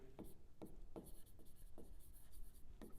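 Marker strokes on a classroom board during a Class 10 maths lesson, a series of short squeaky scratches spaced irregularly, quiet and close with no talk over them.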